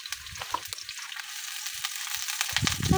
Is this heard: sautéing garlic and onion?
yes